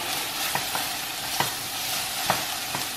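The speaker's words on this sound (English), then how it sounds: "we're gonna use our wooden spoon to incorporate the ingredients" A wooden spoon stirs ingredients in a pot of corned beef, cabbage and potatoes, giving a soft steady sizzle with a few light knocks every second or so, fairly close and with no talking.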